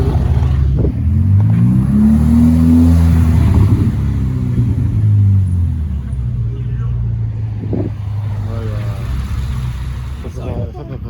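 Ferrari 488 sports car at a Paris rally gathering passing close by, deep engine rumble swelling then fading, followed by further distant traffic, with a person talking over it.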